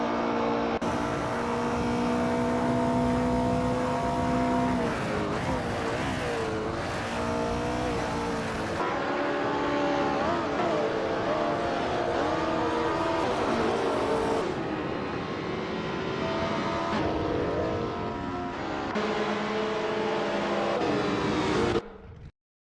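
A race car engine drones on a victory lap in a racing video game, a continuous loud revving tone that shifts pitch with gear changes and cuts off abruptly at the end.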